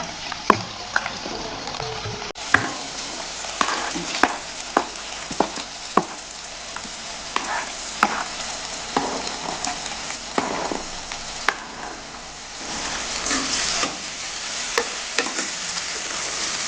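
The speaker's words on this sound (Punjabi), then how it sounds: "ਹੁਣ ਆਪਾਂ ਇਹਦੇ ਵਿੱਚ ਪਾਵਾਂਗੇ ਜਿਹੜਾ ਅਸੀਂ ਤੜਕਾ ਕੱਟ ਕੇ ਰੱਖਿਆ ਸੀਗਾ ਪਿਆਜ਼ ਅਦਰਕ ਲਸਣ ਤੇ ਹਰੀਆਂ ਮਿਰਚਾਂ" Onion, ginger, garlic and green chillies fry in a pan of cumin tempering for dry mustard greens, a steady close sizzle broken by sharp stirring clacks of a spoon against the pan, no voices.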